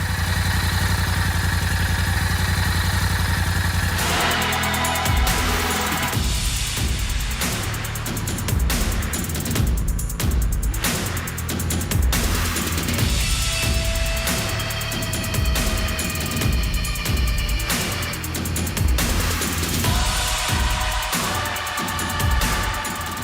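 A Royal Enfield Bullet 650 twin revs up from a steady idle, then settles into a deep, thumping exhaust beat with repeated throttle blips, loud and close with no talk over it.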